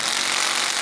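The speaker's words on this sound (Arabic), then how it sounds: "انا حقيقة غشيت واستخدمت الدريل حقي" A power drill runs at a steady, loud whir while driving screws during installation of an auxiliary switch box in a car.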